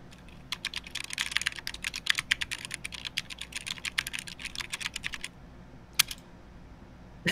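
Rapid clacking keystrokes on a mechanical computer keyboard, a steady close burst of typing that stops briefly, then one final louder key strike like an enter press, with no talking.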